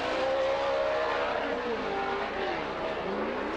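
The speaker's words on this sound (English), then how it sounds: "There's something wrong with Greaves' truck. It sounds different." Off-road race truck engines in a championship round, one truck running rough as if it has lost a cylinder, loud close engine drone with pitch shifting as vehicles rev and pass, with a commentator speaking over it.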